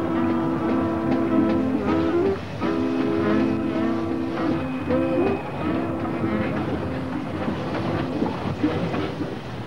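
A train rumbles along the rails with steady clatter in Tasmania, while a loud horn-like tone sounds repeatedly in sustained blasts over the noise.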